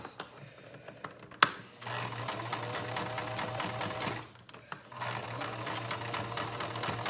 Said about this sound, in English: You're gonna back stitch and then stitch forward.